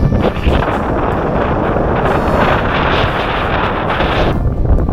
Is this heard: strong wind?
yes